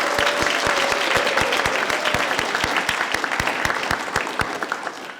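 A school audience at a middle school STEM fair claps for the student participants, loud and close, with a few sharp distinct hand claps standing out over the steady crowd applause that fades slightly toward the end.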